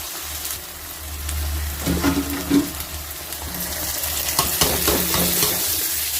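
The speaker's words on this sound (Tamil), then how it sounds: "இந்த ஸ்டேஜில் நம்ம ஃப்ரை பண்ணி வச்சுருக்கோம்ல அந்த ப்ரான் அதை ஆட் பண்ணிக்கலாம்" Prawns added to a tomato masala sizzle steadily in a pan, with a continuous close frying hiss and occasional stirring knocks partway through.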